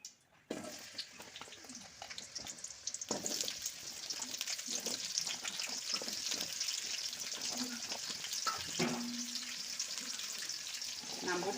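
Pieces of bitter gourd fry in oil, giving a soft, steady crackling sizzle. Scattered stirring clinks and a brief tonal squeak break in partway through.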